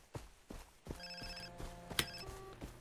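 A telephone rings in the Far Cry 3 video game, a short electronic ringing tone heard fairly quietly among footsteps and soft thuds.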